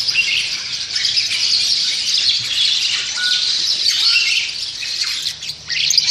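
Caged birds at a seller's stock, including starlings and lovebirds, chirp and tweet continuously in a busy, bright chorus, fairly close, with occasional squawks.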